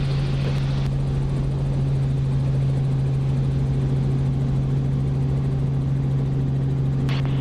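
Steady, loud drone inside a Robinson R44 helicopter cockpit in flight near Wycombe Air Park, with a constant low rotor and engine hum throughout and a brief higher-pitched burst near the end.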